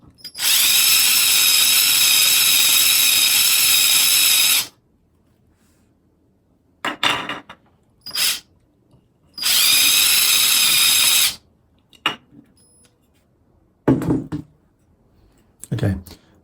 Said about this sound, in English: we're going to take a pretty low power drill I've got here